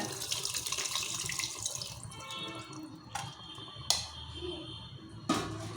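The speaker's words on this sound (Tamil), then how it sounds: "அடுத்தது புளிஜலம் விட்டுக்கோங்க" Tamarind water is poured into a cooking pot for a spicy South Indian kuzhambu, a continuous splashing pour with a few sharp clinks of the vessel against the rim, close and alone.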